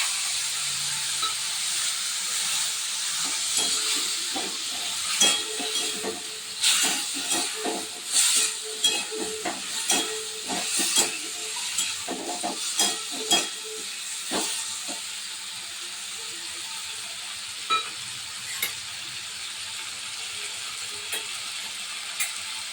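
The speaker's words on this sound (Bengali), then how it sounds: "পেঁপে আলু ভাজা হয়ে গেছে, এবার মশলাটা দিয়ে দেবো।" Papaya and potatoes fry in a pan with a ground paste of ginger, garlic, cumin and green chillies, giving a constant hissing sizzle broken midway by a cluster of clattering stirs before settling back to steady frying.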